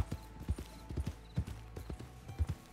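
White horse's hooves clip-clopping in the RedM roleplay video game, an even, close walking rhythm of hollow thuds, fairly loud, with no talk over it.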